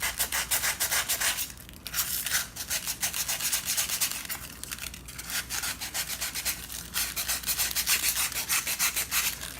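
Bare steel of a military G503 headlight bucket being scrubbed clean of oxidation, a close, loud rasping rub in quick repeated back-and-forth strokes with a few short pauses.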